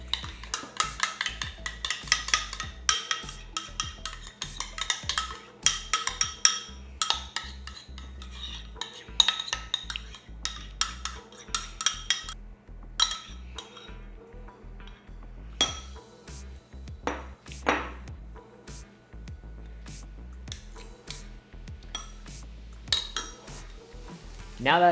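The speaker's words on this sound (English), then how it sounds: "Now grab your Greek yogurt and mix it into the syrup" Greek yogurt being mixed into a syrup for Oreo dessert cups, a busy run of rapid spoon-against-bowl clinks and scrapes that continues steadily, loud and close, with no talking.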